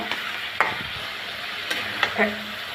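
Chopped tomato cooking down with masala in a pan for a rohu fish bhuna, with steady sizzling and a few sharp spoon scrapes and clinks against the pan, close up and with no voices.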